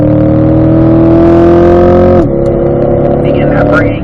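Corvette C8 on the Spring Mountain race track, its engine droning loud and close in a steady climbing note, then dropping sharply with an upshift before pulling again, while an instructor talks over it.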